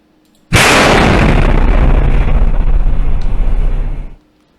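A loud asteroid explosion in a Unity-built 3D space shooter game, one sudden blast that roars in a sustained broadband burst for about three and a half seconds, then cuts off abruptly.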